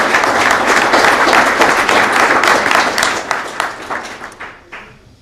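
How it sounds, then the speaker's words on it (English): Applause from an audience at a presidential swearing-in event, loud and dense at first, then thinning out and fading over the last couple of seconds. "Give all these members a round of applause"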